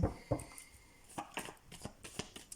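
Tarot cards being shuffled, with a few sharp riffling snaps near the start and then a run of softer, fainter card-on-card taps and slides that fall into an uneven rhythm.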